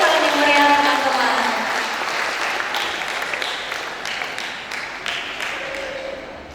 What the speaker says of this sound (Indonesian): Berikan tepuk tangan yang meriah teman-teman.